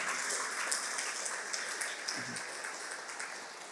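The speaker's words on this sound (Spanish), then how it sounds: "¿Cuántos le dan un aplauso al Señor?" Applause from a church congregation during a Spanish-language sermon on missionary vision, steady dense clapping sustained throughout at moderate level, fairly distant and without talk over it.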